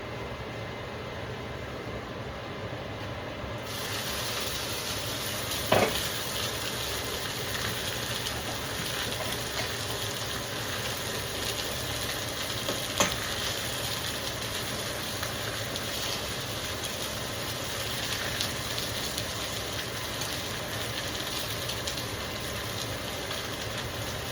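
A few eggs frying in a pan give a steady, even sizzling hiss throughout, broken by a couple of sharp little pops, with no voices.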